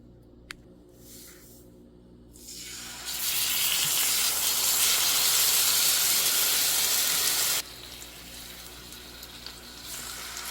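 Ingredients hit hot olive oil in a pan and break into a loud, dense sizzle lasting several seconds, then settle to a quieter crackle, with faint kitchen clatter before it starts.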